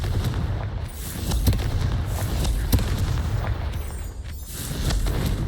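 Repeated booming blasts of the Confringo explosion spell in the game Hogwarts Legacy, several sharp bursts over dense low rumble, loud and close with no talking.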